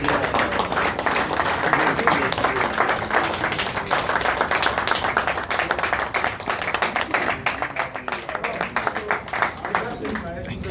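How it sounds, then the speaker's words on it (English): A presentation audience bursts into dense, sustained applause, many hands clapping steadily and loudly with a faint voice underneath, tapering slightly toward the end. "let's clap for Eric again."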